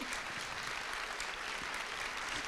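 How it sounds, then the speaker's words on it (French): An audience in a hall gives sustained applause, dense even clapping that stays fairly soft and steady throughout with no talk over it. "François Bunel et Delphine de Vigan qui sont là et qui aussi méritent vos applaudissements."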